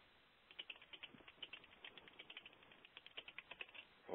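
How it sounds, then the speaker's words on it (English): Fast typing on a computer keyboard, with rapid, irregular key clicks running steadily throughout at moderate loudness and no talking. "Somebody typing fast."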